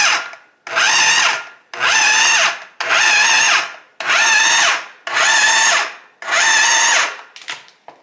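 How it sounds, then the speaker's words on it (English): Food processor pulsing as it grinds homemade dog food: seven loud, evenly spaced whirring bursts about a second each with short silent gaps, the motor pitch sliding up and down within each pulse. "just hit pulse on the food processor, it'll grind it all up."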